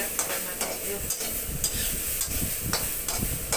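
Onions fry in oil with a strong continuous sizzle, interrupted by regular scraping stirs of a spoon against the pan, close and fairly loud with no speech.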